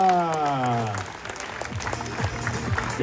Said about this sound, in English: Et on peut l'applaudir plus fort